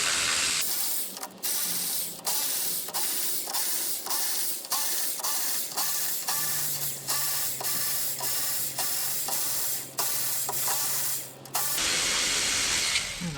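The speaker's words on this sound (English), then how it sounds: "I guess if you're going to do this job, it helps to have an electric ratchet." An electric ratchet works loose the battery connections on a Toyota Prius, a rapid series of sharp mechanical clicks over a steady hissing buzz, close and continuous for most of the stretch before cutting off.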